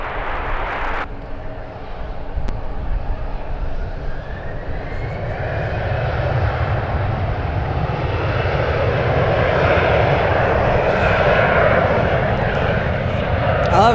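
Emirates airliner landing at San Francisco airport, a distant jet roar swelling gradually into a loud, sustained rumble, with people talking over it outdoors.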